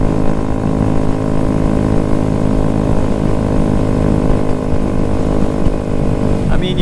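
A Honda Grom motorcycle engine drones steadily and loudly, held just short of full throttle while riding into a strong wind, the wind rush blending with the continuous buzzing engine note.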